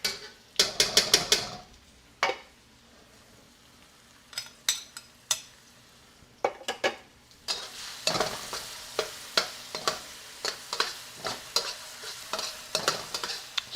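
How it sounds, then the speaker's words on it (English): Food sautés in an oiled pan: a constant low sizzle punctuated by frequent sharp scrapes and clacks of a utensil stirring against the pan, coming in quick irregular bursts. "Saute this up for a minute or so."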